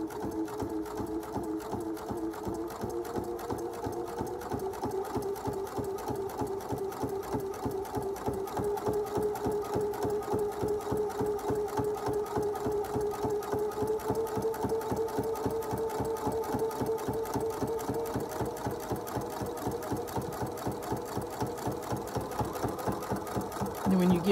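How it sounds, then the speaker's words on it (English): A Viking sewing machine stitches fabric steadily, its rapid needle clatter running evenly and close throughout, speeding slightly in the middle. "you're going to sew all the way to the edge"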